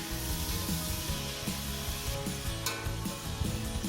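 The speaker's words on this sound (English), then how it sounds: "And also fry the shrimps for a minute until it turns light pink in" Shrimp fry in a pan for Nigerian coconut rice, giving a loud, steady sizzle close up, with scraping stirs of a utensil now and then.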